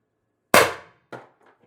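A black powder gun fires a steel ball bearing with one sharp, loud crack. A shorter metallic impact follows about half a second later, then a faint rattle dies away.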